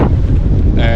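Strong wind buffets the microphone on the harbour front at Folkestone, on England's south-east coast facing France, a loud continuous roar that fills the whole second with no voice over it.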